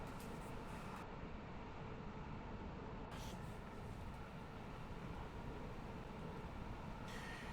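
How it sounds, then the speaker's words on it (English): A train in the Train Sim World 6 game on the Glasgow to Edinburgh Waverley line: a steady, low rumbling rail roar that runs unbroken throughout at moderate level, with no voices. "I thought that was a train"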